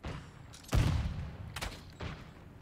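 A few sharp gunshots from the shooter game Call of Duty: Modern Warfare 2, one heavy close blast followed by two lighter cracks spaced about a second apart, over a quiet background.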